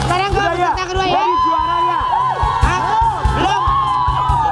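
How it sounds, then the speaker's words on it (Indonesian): A studio audience cheers and whoops at a comedy game show, a loud crowd din with rhythmic clapping or thumping running through it. "baik tepuk tangan"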